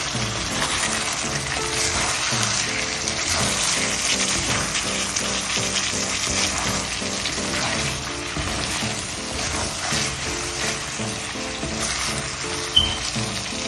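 Chicken fry sizzles steadily in a pan as frozen coriander is mixed in and the pieces are turned, with soft scraping stir sounds and a single sharp click near the end.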